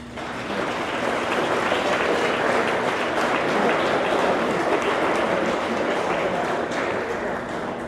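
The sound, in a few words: audience applause for young tennis players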